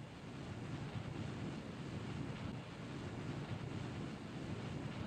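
Rocket engine ignition in Kerbal Space Program, a steady low rumbling roar of broadband noise that holds evenly without breaks, faint and continuous.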